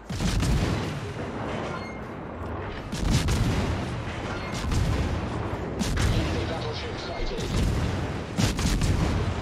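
Naval shells fired by the battleship Satsuma in an online naval combat game, heard as repeated deep booms and rumbling salvos at intervals over continuous battle noise.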